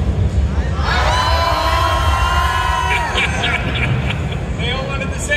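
A gaming expo convention crowd shouts a loud, sustained greeting in unison for a Q&A panel. Whoops and cheers carry on after it, close and energetic.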